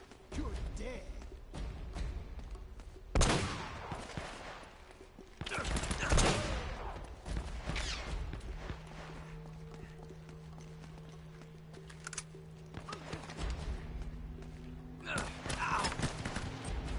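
Gunfire in the video game Uncharted: Drake's Fortune: a few loud, sharp bursts stand out from constant in-game noise, scattered through the scene with some longer tonal hum in between.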